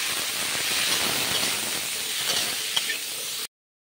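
Cauliflower fries in a pan with salt and turmeric while being stirred, village-style cooking. It makes a steady, loud, close hiss and sizzle with a few faint scrapes, then stops suddenly.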